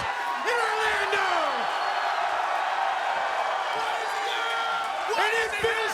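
A wrestling arena crowd at a live TNA broadcast in Orlando roars and cheers loudly and continuously, with whoops and shouts rising throughout, while an announcer talks over it.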